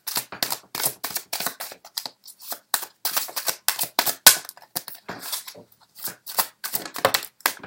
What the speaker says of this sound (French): j'ai besoin de réajuster un petit peu et de replacer mes cartes